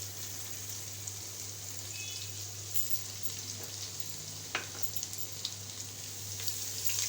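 Finely chopped garlic, about eight to ten cloves, sizzles as it fries in a pan for fried rice, a steady soft crackle with scattered pops and stirring sounds, fairly quiet and unaccompanied by talk.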